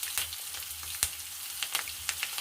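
Grated fresh ginger and turmeric fry in a pan for raw mango chitranna, giving a soft, steady sizzle broken by quick crackling pops.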